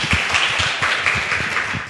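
A live book-talk audience applauds as a guest is welcomed to the stage, steady dense clapping from many hands throughout.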